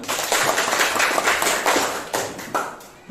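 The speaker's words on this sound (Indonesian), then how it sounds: "Tepuk tangan untuk Sipa." Classmates in an eighth-grade classroom clap for a student, a short burst of close, uneven hand claps with sharp taps that thin out toward the end.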